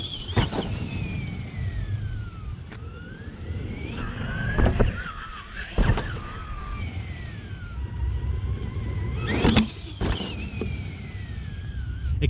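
An RC monster truck, a Cobra Kai SMT10 with a wheelie bar, rolls off a steep ramp, its electric motor whining in rising and falling sweeps, with sharp thuds and clatters as it lands and bounces.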